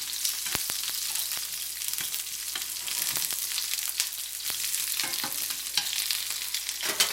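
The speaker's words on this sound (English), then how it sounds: "Fry them a little bit." Onions, ginger and garlic frying in hot oil, a dense continuous sizzle close by with occasional sharp clicks of stirring against the pan, no talking.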